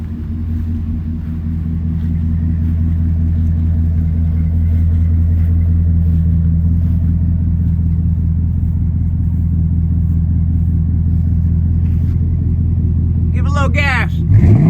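A Dodge Hemi V8 breathes through a newly fitted Flowmaster exhaust with a deep, loud, steady rumble close by, swelling slightly mid-way before a sharper burst of revving at the end.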